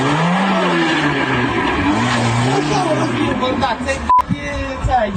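A car drives off after nearly hitting someone, its engine and tire noise rising under agitated voices talking loudly nearby.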